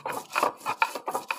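Spices and dried red chillies are ground by hand on a stone grinding slab, making a quick series of about five close, rhythmic rasping rubs with short gaps between strokes.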